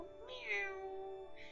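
A voice imitates a cat's meow, a drawn-out, rising-then-falling mew with a second short meow at the end, heard close and alone.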